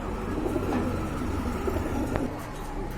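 Pigeons at a busy pigeon market coo steadily under a dense, continuous background of crowd and bird noise.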